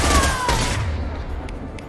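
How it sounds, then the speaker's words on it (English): The Scimitar shotgun in Mass Effect 2 fires one loud, close blast with a heavy low rumble that slowly decays, followed by a couple of faint sharp pops. "we're using the scimitar shotgun now"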